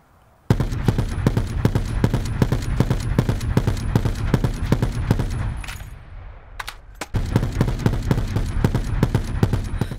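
Rapid automatic fire from the Stingray rifle fitted with the operator mod in Black Ops 4, loud evenly spaced shots in a fast burst, a short pause near the middle, then another sustained burst.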